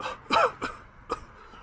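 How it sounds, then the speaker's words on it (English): A deliberate fake cough: a few short, dry throaty bursts, the first strongest and the others fading, close up over a faint background hiss. "Don't forget your fake cough."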